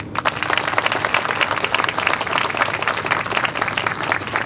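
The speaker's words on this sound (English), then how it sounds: "Clap for him." A large audience claps steadily and loudly, a dense continuous wash of applause with no voices standing out.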